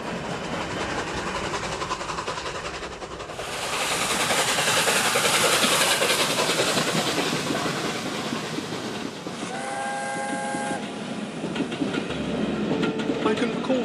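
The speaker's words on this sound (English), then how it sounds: "steam trains doing what they do best, steaming and pulling trains" Model railway steam trains run steadily with a continuous rolling rumble, broadening into a louder stretch of running noise, with brief whistle-like tones near the end and no talk.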